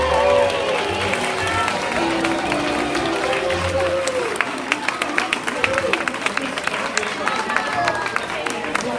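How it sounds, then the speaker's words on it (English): A graduation audience applauds as the models take a bow: a broad, sustained roar of crowd clapping mixed with chatter and voices, with sharper individual claps standing out toward the end. "Let's hear it for our models."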